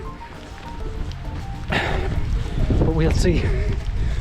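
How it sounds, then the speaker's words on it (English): Gusting wind on a mountain walk in the Wicklow Mountains, Ireland, a rumbling low roar that grows stronger partway through while someone speaks briefly over it. "Hopefully this wind might settle down."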